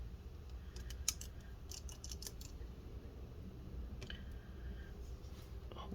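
Small screws are worked loose from an HP Spectre x360 15-bl075nr laptop during disassembly, giving faint, scattered clicks and light metallic ticks over a low background hum, with no talking.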